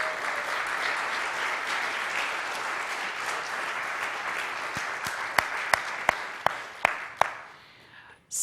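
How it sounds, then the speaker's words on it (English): A conference audience at PeaceCon applauds the event's volunteers in a long, dense round of clapping. It thins out near the end into a few loud, separate claps close by before stopping. "can we give a round of applause to our volunteers?"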